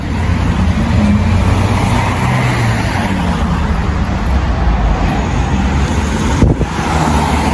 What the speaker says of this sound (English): Cars going in and out of the police.